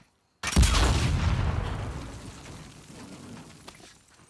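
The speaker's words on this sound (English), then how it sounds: "Those explosions are so much smaller when you throw a brick at them." A large explosion in The Last of Us Part II erupts suddenly after brief silence, a loud deep boom with a long rumbling decay that fades over several seconds, with no talk.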